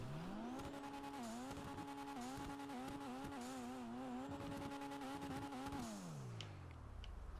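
Jester Classic sports car engine in GTA Online revving repeatedly, a steady tuner-style engine tone climbing and dipping in pitch through several throttle blips before dropping away at the end, loud and with no talking.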